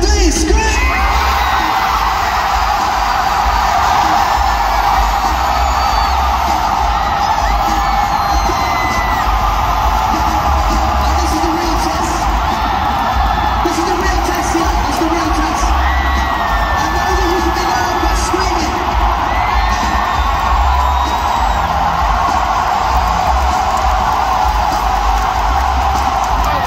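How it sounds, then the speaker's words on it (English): A packed Seattle stadium crowd screams and cheers nonstop at a 2023 concert, a dense, loud roar of yells and whoops that holds steady throughout. "show me that this is actually the loudest stadium in the United States"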